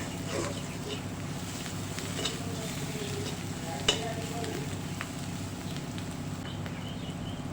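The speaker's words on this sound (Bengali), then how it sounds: "মশলাটা ভালো করে কষিয়ে নিতে হবে।" Spice paste sautéing in a pan gives a low, steady sizzle with light stirring scrapes and one sharp clink, fairly faint and continuous throughout.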